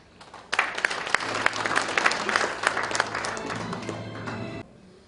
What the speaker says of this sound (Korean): 여러분들의 박수로 모시겠습니다